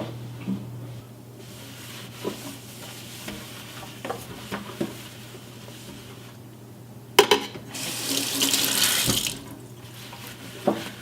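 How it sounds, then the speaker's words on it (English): Water runs from a kitchen sink tap while the basin is wiped out, a steady hiss that swells loudest near the end, with scattered clinks and rubbing sounds and no talk. "But let me wipe out the sink first."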